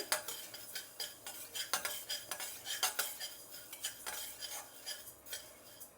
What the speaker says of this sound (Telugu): ఇదే కళాయిలోనే ధనియాలు వేయించుకుందాం